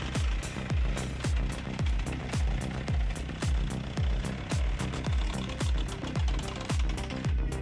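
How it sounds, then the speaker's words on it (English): A homemade hydraulic firewood processing machine drives logs into a splitting blade frame, producing loud, rapid, evenly spaced thumps and clanks over a continuous mechanical drone. "The powerful hydraulic system pushes the wood into the splitting blade frame, creating a flow of firewood pieces."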